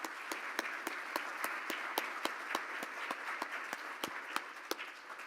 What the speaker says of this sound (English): Please welcome them with our applause